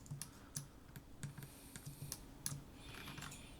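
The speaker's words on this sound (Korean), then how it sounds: "태블릿 클릭하시고 시프트 키 누르시고" Keys on a computer keyboard being pressed, a run of light, sharp clicks in an uneven rhythm, close and quiet with no talking.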